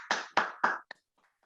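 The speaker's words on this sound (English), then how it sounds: "Give a round of applause for Bubba." A short round of applause on a podcast, three loud claps in quick succession followed by a fainter final clap, then silence.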